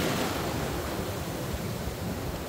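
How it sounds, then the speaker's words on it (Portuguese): Strong ocean waves surging onto the shore at Recife, a steady broad roar of surf and wash close to the microphone, with faint wind buffeting and no voices. "Vem mais uma onda bem forte."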